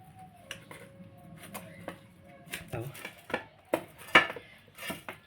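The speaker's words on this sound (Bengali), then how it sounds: "এখন খুব ভালো করে এটা মাখিয়ে নেব" Semolina dough being worked with flour in a bowl by hand for a fried sweet, producing soft irregular slaps, squishes and knocks in an uneven rhythm close by, with faint talk underneath.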